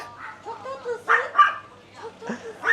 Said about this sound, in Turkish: Köpek de bize bağırıyor.